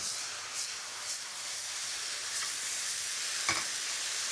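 Steady loud sizzling of cooked noodles being stirred through black bean sauce in a hot pan for a mushroom stir fry, with a continuous hiss and a faint clink or scrape now and then.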